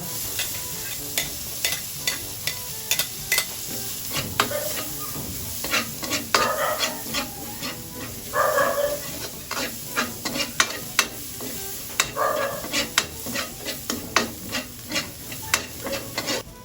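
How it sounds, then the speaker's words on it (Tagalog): Onion sautés in a pan for tuna pasta while it is stirred. A continuous hot sizzle carries frequent sharp scrapes and taps of the utensil against the pan, close and unhurried, with no talking. "Susunod ko na din pong ilagay itong sibuyas."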